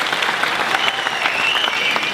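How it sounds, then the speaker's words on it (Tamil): An audience applauds at a film audio launch event: dense, continuous clapping from a large crowd, loud and steady throughout with no voices standing out. "அதுக்குதான் கைத்தட்ட சொல்றேன்"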